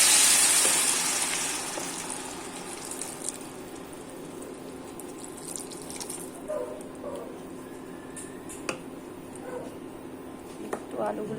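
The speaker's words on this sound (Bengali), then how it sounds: "জল দিয়ে দেবো।" Water poured into a cooking pot of potatoes and spices, a brief gushing splash at the start that fades into a quiet hiss and a few small clinks and bubbling sounds.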